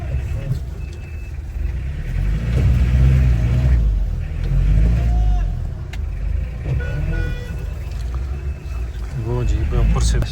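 A jeep stuck in mud on a rough, dirty mountain road revs its engine in loud, surging bursts that rise and fall, while people talk over the churning rumble.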